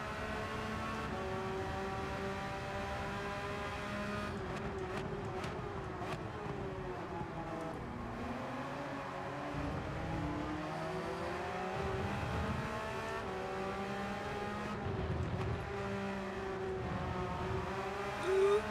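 A car engine in Gran Turismo 7 revs hard through repeated gear changes, its pitch climbing and dropping in a loud, continuous racing drone with occasional tire noise and no speech.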